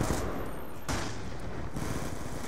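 Explosive rounds fired from a SCAR-H rifle in a video game: a dense, loud stretch of continuous gunfire with a sharp burst near the one-second mark and no voices.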